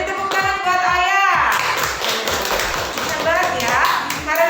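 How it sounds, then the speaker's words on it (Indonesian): A class claps hands for a pupil, a brief burst of patter under a teacher's voice and children's chatter. "Beri tepuk tangan buat Oya"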